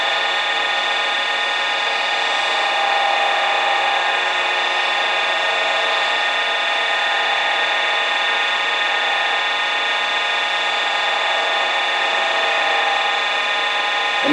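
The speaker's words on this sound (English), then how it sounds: "I'm going to take that rag and I'm just going to buff this in" A rag buffs carnauba wax onto a turned pen spinning on a lathe, giving a continuous, even whirring hum with a rubbing hiss that holds steady throughout.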